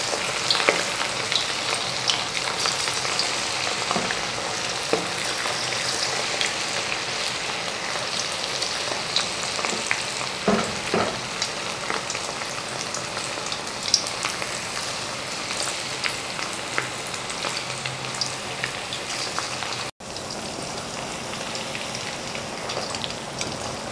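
Chicken frying in hot oil over a low flame gives off a steady, dense crackle and hiss like rain on a surface, continuous and close throughout, with a brief dip near the end and no voices.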